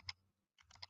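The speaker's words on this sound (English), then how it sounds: "I got a mechanical keyboard here, and you can really hear that through the mic" A mechanical keyboard clacks close to the mic in short quiet bursts of keystrokes separated by a brief pause.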